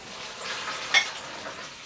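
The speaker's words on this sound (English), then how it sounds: "I'm going to take my boiling water and just add that over my spinach" Boiling water is poured over spinach leaves to blanch them for saag paneer, giving a steady soft rushing hiss for about two seconds with a brief louder splash near the middle.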